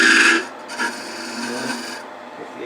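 A wood lathe tool cuts a dovetail recess for chuck jaws into a turned wooden piece, making a brief, close scraping rasp that starts loud, softens into lighter cutting, then stops abruptly, with no talking.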